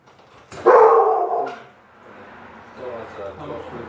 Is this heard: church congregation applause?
no